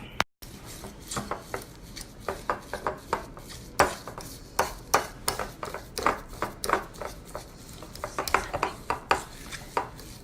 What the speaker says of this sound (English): And then I'm going to add my egg. And we're going to mix it really well.